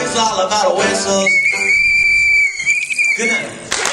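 A shrill whistle blows one sustained note for over a second, between bursts of talking and laughter.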